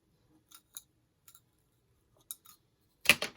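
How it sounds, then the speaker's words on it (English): Scissors snip craft material for a fall Cricut project, a handful of quiet, sparse clicks spread out in near silence, ending with a louder crisp cut close to the microphone. "I got my scissors here, so I'm just going to cut them here in half."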